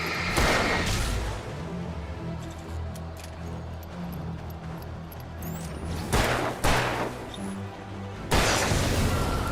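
A few sharp, heavy gunshots crack out at irregular intervals over a steady rumbling background in the video game Alan Wake Remastered on PS5, with no voices.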